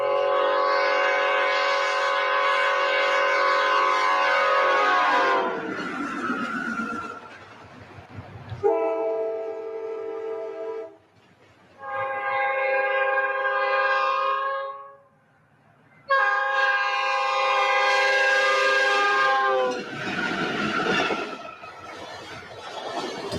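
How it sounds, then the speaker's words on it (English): A diesel locomotive's Nathan P5A or K5LA air horn blasts several times, loud and close, with long chords broken by short pauses and a fading rumble between soundings. "The units came equipped with either a Nathan P5A or K5LA air horn."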